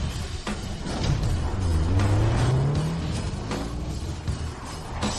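A Rolls Royce limited edition car driving up, its engine rising in a smooth rev that swells and then fades into a steady rolling hum.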